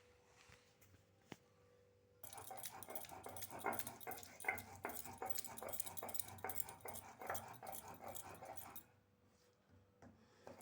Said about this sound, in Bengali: আর জল ছাড়া এই যে শিলনোড়াতে বাটছি, কোনো জল দেবো না